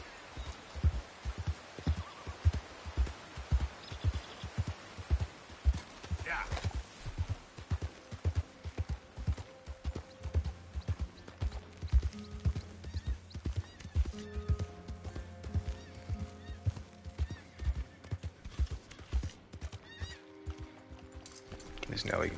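Horse hooves clip-clop steadily in Red Dead Redemption 2, a rhythmic run of fairly close thuds carrying through most of the stretch with a brief snort and game music layered in, and someone talks at times.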